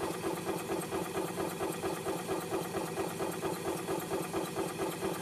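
The gas engine of a 2007 Club Car Precedent golf cart, which has gas in its oil, idles steadily and close by with a rhythmic chugging pulse and no speech.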